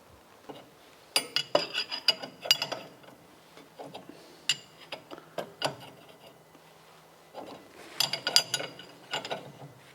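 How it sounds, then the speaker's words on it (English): Tightening the bolt on a ball joint splitter fork set against the upright of an MGB during rack and pinion work: bursts of metallic ratcheting clicks in several groups, close and moderately loud, with brief pauses between. "And then just tighten up this bolt and it should come out."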